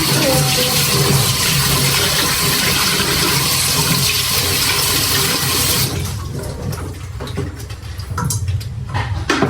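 Tap water runs steadily and loudly over a gawet (dewit) fish, a long, snake-like sea fish, as it is washed; the flow is continuous, then turns more broken and splashy in the final seconds.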